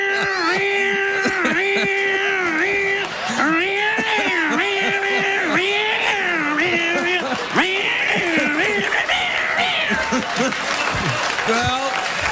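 A voice imitates bagpipes as a screeching cat, wailing and yowling in bending, nasal, pitch-sliding cries over about twelve seconds while a studio audience applauds and laughs underneath.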